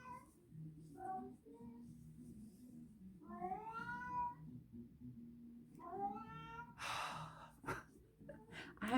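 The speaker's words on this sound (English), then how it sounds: "my cat's going to get vocal" A pet cat named Charlie meows repeatedly indoors, several drawn-out, wavering cries close to the microphone, with soft breathing sounds between them in a quiet bedroom.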